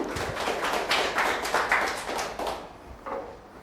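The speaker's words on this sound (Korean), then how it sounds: "박수로 맞이하겠습니다." Audience clapping to welcome a lecturer at a party staff training session, a short burst of hand claps in pulsing waves that fades after a few seconds.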